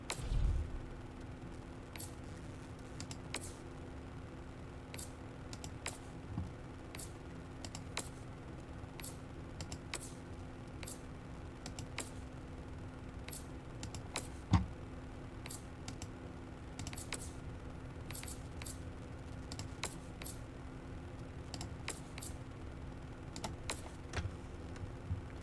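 A computer mouse clicks through Helldivers 2 weapon customization menus, quiet sharp clicks arriving in irregular bursts and single taps over a low steady hum across a long stretch, with no talking.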